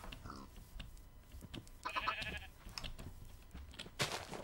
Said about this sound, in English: I thought I saw the sheep here.